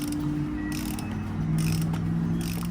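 A hand ratchet snugs an engine oil plug back up on a Jeep, giving a continuous mechanical clicking and grinding over low steady hum, close and moderately loud, with no talking.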